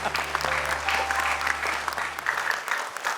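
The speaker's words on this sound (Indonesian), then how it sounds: "Oke, tepuk tangan dulu dong untuk 5 peserta kita." Studio audience applauding five contestants on a Quran memorization competition show, steady enthusiastic clapping with a low musical hum beneath that fades near the end.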